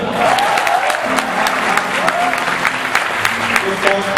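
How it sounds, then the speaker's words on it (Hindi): Enthusiastic applause from a large crowd at a Teachers' Day celebration, many hands clapping together at once, with a few voices calling out underneath. "और आप लोग इसको और एंजॉय करें और सपोर्ट करें, जोरदार तालियां।"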